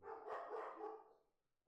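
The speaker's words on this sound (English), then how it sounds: "Sorry, that was our dogs. Yeah. They bark for no reason." Dogs barking in a home, several loud, close barks packed together in the first second before fading into a quieter tail.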